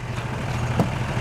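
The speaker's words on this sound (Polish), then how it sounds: "O, traktor jedzie za wami." A tractor drives along behind a group on a road in Poland, its engine a steady, low rumbling drone that stays fairly close, with no voices.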